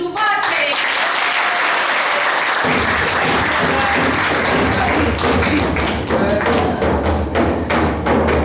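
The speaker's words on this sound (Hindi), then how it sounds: "आए हमारे साथ बजाएं ताली" Loud audience applause opens a theatre play about police and judiciary recruitment for women, starting with a few scattered claps and thumps before swelling into dense, sustained clapping that fills the hall.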